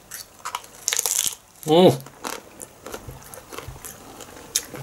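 A few crisp crunches and crinkles from close-up chewing of naan bread, with a brief voiced sound in the middle and quiet background noise.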